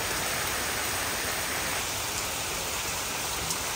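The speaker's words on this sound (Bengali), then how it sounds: "এত সুন্দর বৃষ্টি হয়।" Monsoon rain pours over the Sundarbans near a moored trawler, a dense, even roar of rainfall that stays steady and close throughout with no voices.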